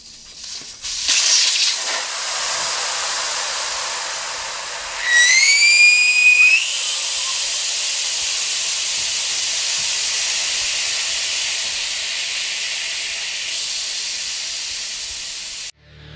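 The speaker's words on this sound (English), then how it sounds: "This also has a valve stem remover on it, which I'm going to use to take out the air." Steady loud hiss of air escaping from a motorcycle tire as a valve stem remover pulls the core, close up, with a brief whistling squeal partway through, then a constant rush that runs on for over ten seconds.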